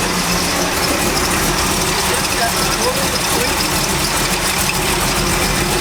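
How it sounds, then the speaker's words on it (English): A truck engine runs with a constant loud mechanical drone and whine from the power steering pump, heard up close and steady with no break. "I think that's the power steering pump, because right when I put the pump on, it started making that sound."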